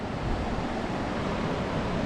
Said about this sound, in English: The river is wild today.